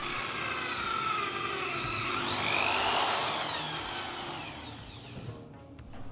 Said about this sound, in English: Next I drill the holes through the steel, here using a drill for metal